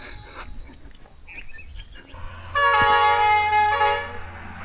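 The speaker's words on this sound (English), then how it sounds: "That's the noise of the jungle in Nepal." In the jungle near Nagarkot, Nepal, a high, steady insect drone carries on with cricket-like chirping, then a loud tonal horn-like blast joins for a couple of seconds.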